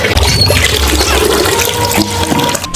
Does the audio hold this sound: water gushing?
yes